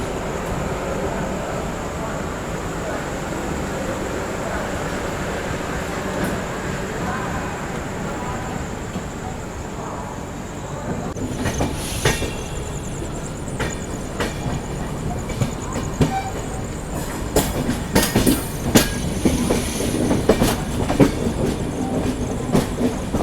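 Two trains, one of ICF coaches and one of LHB coaches, departing side by side from Ratlam station: a steady low rumble of rolling stock grows busier after a few seconds, with clickety-clack wheel beats and sharper clanks near the end, no talk.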